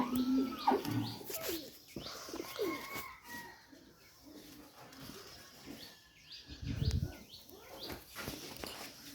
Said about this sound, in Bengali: এটা হচ্ছে একটি সিঙ্গেল থার্টি ফাইভ মাদি কবুতর